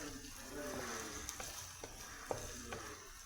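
Onions fry in oil with a faint, continuous low sizzle, broken by occasional light scraping taps of a stirring spoon.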